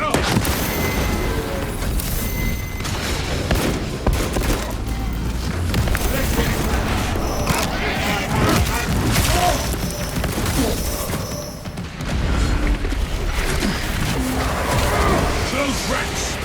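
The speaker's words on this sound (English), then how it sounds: "Fragmentation grenade out!" Fragmentation grenade blasts in Space Marine 2 during a Hard difficulty mission, with heavy booms and crashing impacts layered over dense, continuous battle noise and voices.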